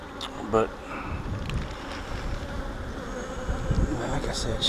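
Honeybees fanning their wings on a frame during a hive inspection, a steady close buzzing drone with a voice talking over it.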